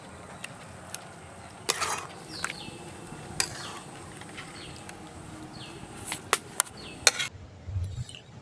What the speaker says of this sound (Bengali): একটু পাতলা করে কেটে নিচ্ছি